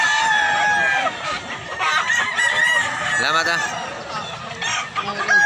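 Roosters and hens of a quality gamefowl group at a market in Mantalungon, Barili, Cebu: loud overlapping crowing and clucking up close, with a person speaking briefly among the birds.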